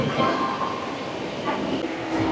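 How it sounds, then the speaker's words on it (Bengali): Suburban train pulling out of Bidhannagar station near Kolkata, a steady loud rumble of carriages on the rails with a faint clatter throughout. "বিধাননগর স্টেশন থেকে আমাদের ট্রেন ছেড়ে দিল।"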